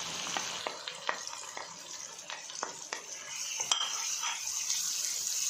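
Chopped onion and ginger sautéing in a pan for dhaba-style dal makhani, a soft continuous sizzle broken by scattered light clinks and scrapes of a spoon against the pan, close up and unaccompanied by talk.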